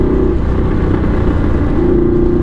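A Yamaha V-Max muscle cruiser engine revs hard and loud up close, a steady deep roar holding under acceleration with no talk over it.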